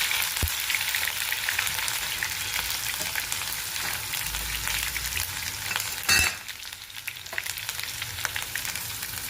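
Green chilies sizzle in hot oil while tempering small pieces of dhokla, a steady close frying hiss with light stirring and a sharp clatter partway through; no one speaks.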